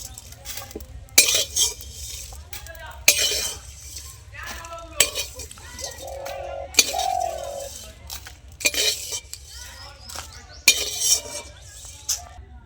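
Roasted dry spices are scooped out of a pan: sharp metal spoon scrapes and clinks land in irregular bursts over a low background hum, with short pauses between scoops.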